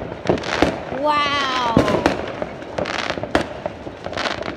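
New Year fireworks explode in rapid succession with sharp bangs, crackles and a rising whistle, moderately near and loud, while a person briefly exclaims over them.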